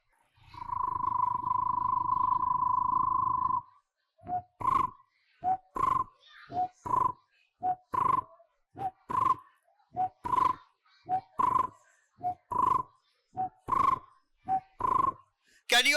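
A person imitates the rattling call of a barbet, a fig-eating bird: a sustained buzzing hum first, then a steady series of sharp, clipped vocal notes repeated rhythmically about twice per second, close and clear.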